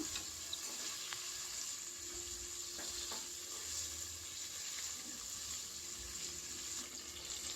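Green chillies and curry leaves sauté in hot oil for a one-pot lima bean sambar rice, giving a steady, moderate sizzle with a few light stirring clicks throughout, no voices.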